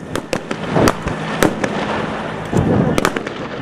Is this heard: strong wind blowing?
no